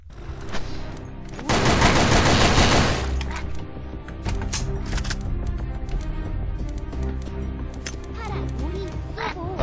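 Gunfire in Sudden Attack, a dense burst of rapid automatic shots followed by scattered single shots and clicks, loud and close with some voices in the background.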